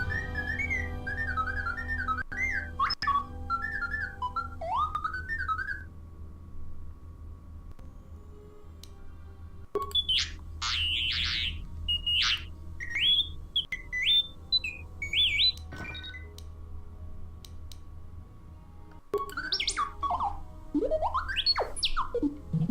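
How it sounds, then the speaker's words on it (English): Utility droid in the video game KOTOR 2 (Star Wars Knights of the Old Republic 2) chirping in strings of warbling whistles and beeps, in bursts separated by pauses over a low steady hum. "Low pitch whistles and beeps."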